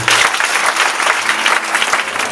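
A church congregation claps steadily in a dense, loud round of applause that carries on without a break, with faint voices mixed into it.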